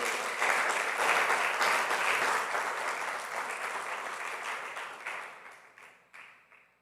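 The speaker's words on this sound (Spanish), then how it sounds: "Den ese aplauso al Rey de Reyes, por favor." Sustained applause from a church congregation, loud and dense at first, then gradually thinning and fading toward the end.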